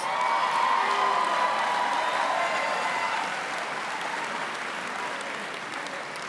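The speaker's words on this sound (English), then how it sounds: "Can we give them a round of applause?" Commencement audience at Moravian University applauding and cheering for faculty award recipients, a loud, dense, sustained wash of clapping with scattered whoops, steady throughout and easing slightly toward the end.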